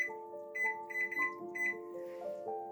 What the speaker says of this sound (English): Now we're going to set our timer for 30 minutes.